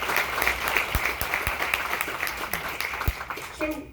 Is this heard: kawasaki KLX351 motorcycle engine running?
no